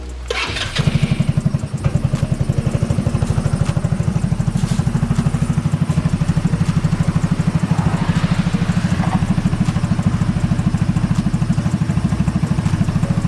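A small carbureted go-kart engine cranks and catches, then runs steadily with a rapid, rattling putter, loud and close, with no one speaking.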